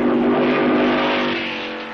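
An Alfa Romeo 158 Grand Prix race car with its engine at a loud, sustained high-revving roar, close at first and slowly fading as it draws away.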